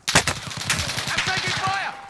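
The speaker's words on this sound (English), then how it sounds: "I'm taking fire." Automatic gunfire in Call of Duty: Modern Warfare rattles in quick repeated bursts throughout, moderately loud, with voices talking over the shooting.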